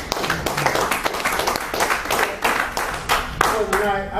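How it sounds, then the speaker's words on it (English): A church congregation at a men's fellowship revival claps hands together, a run of loud, fairly regular claps from a group, with voices calling out over them. "Let's give the Lord a hand clap."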